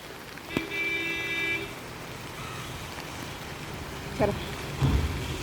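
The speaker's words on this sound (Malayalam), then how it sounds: "പക്ഷെ നല്ല മഴയാട്ടോ." Heavy rain falls steadily as a broad, constant wash of noise throughout, with a brief tonal hum early on and a couple of louder thuds near the end.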